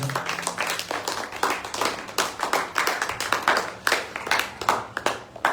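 A church congregation claps and applauds during a Sunday service, a steady dense patter of many hands at close range, with faint voices mixed in.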